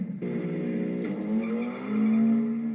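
Cars skid and screech during an illegal street race, a loud sustained tire squeal that bends in pitch, layered over engine roar, with a second squeal rising toward the end.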